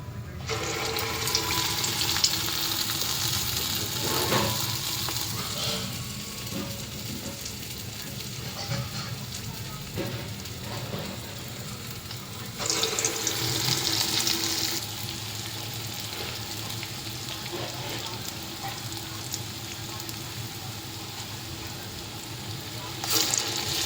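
Small rounds of urad dal vada batter frying in hot oil for dahi vada, a steady dense crackling sizzle throughout with occasional louder bubbling bursts, close and continuous, with no talking.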